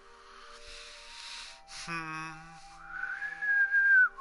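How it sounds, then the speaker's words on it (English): A person whistles a few sliding and held notes, alone and fairly close, with a rising pitch near the end and no talking. "Whistling is not the greatest."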